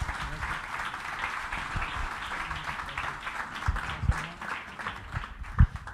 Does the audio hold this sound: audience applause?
yes